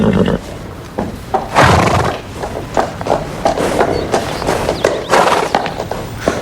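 A cartoon horse whinnies loudly and close, a shaky drawn-out neigh, mixed with hoof clatter and stirring noises, followed by further snorts and shorter whinnies.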